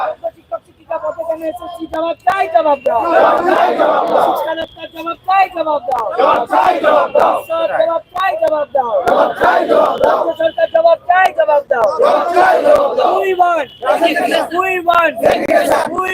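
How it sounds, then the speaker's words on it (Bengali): Protesters shout slogans in unison outside the Supreme Court, a loud, dense crowd chanting in steady rhythmic bursts that carry on without pause, close and overpowering. "এই মুহূর্তে তারা স্লোগান শাউটিং করছেন"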